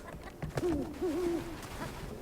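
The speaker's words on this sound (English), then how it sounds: "Did you see the owl?" An owl in the video game Never Alone gives a pair of soft, wavering hoots over faint wind ambience, fairly quiet and heard alone without talking.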